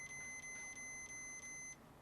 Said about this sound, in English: Should alarm it.